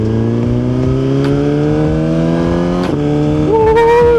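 Suzuki Gixxer liter-class motorcycle engine idling with a steady harmonic drone, then briefly revving up near the end, loud and close with no talking.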